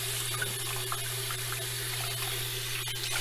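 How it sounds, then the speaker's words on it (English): Tap water runs steadily into a sink while red snapper is rinsed for a Jamaican brown stew, a continuous close hiss and splash with no pauses or talk. "So I'm going to rinse off the fish now, as you can see."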